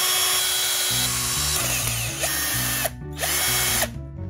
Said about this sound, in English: I can just take some screws and drill them into the rubber